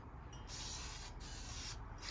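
Spray paint hissing from an aerosol can onto outdoor chairs, three short close bursts with brief pauses between them, quiet and with no talking.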